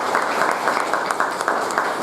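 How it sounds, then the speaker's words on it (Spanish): Brief burst of audience applause at a book presentation, dense clapping from a crowd in a hall, lasting about two seconds. "Fuerte palmas."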